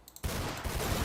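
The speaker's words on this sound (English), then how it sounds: "AP pistol" An AP pistol in a GTA V FiveM game fires a rapid burst after a couple of faint clicks, the shots blurring into a dense, sustained crackle.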